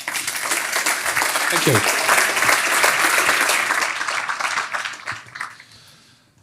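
Audience applause for a keynote speaker at a rooftop development conference, a dense, loud wash of clapping that holds steady for several seconds before tapering off, with a brief spoken thanks over it near the end.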